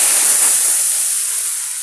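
Onion and garlic frying in oil over a wood-fired stove for a red amaranth greens dish, giving a loud, steady hiss and sizzle that eases slightly toward the end, with no talking.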